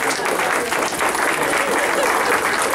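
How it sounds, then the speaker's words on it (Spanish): Wedding guests applaud after the ceremony's kiss, a dense, steady burst of clapping from a crowd, close and continuous with a few voices mixed in. "Damos un aplauso"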